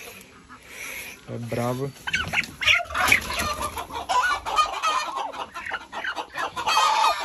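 A brooding turkey hen and chickens on a small farm, close clucking and agitated squawks with a rooster-like cry, while a person speaks nearby.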